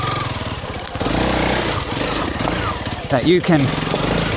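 A Honda CRF300 Rally single-cylinder motorcycle engine thrums steadily while riding a rocky trail in Thailand, loud and close, rising and falling with the throttle as a rider talks over it.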